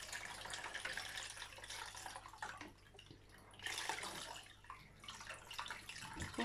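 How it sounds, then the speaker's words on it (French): Hot water poured over herbs for a homemade tisane makes a faint, continuous splashing trickle with a short lull midway before the pour picks up again. "Donc je fais passer mon eau là-dessus."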